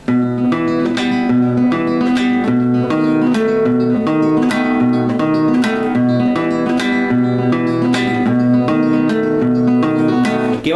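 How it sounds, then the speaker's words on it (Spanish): Strummed acoustic guitar playing a Uruguayan payada in a steady, rhythmic folk pattern with bright plucked chords repeating evenly, full and close with no voice. "Después tenemos la payada uruguaya, que tiene los mismos tonos y suena así."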